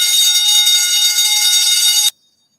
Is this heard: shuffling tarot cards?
no